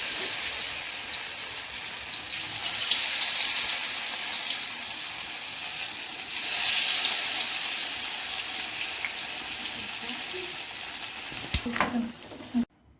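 Cauliflower pakodas frying in hot oil give a steady, close, broadband sizzle that swells as pieces drop in, with a few sharp knocks and clatters near the end.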